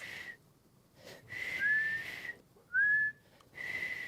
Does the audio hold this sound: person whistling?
yes